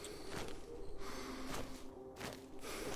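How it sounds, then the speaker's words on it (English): Exhausted panting of a player character in Cataclysm DDA, a run of short, harsh breaths repeating at a steady rhythm, close and fairly quiet over a low steady background with no talk. "Do not want to hear the breathing noise. That means I spent too much."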